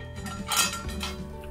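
A lid comes off an appe pan during cooking of sweet semolina appe, a short metallic clatter and clink of cookware up close, brief and alone without talk.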